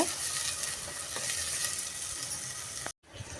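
Onions with a pinch of salt fry in a pan, a steady close sizzle with soft scraping as they are stirred, cut by a brief silent gap near the end before the sizzle resumes.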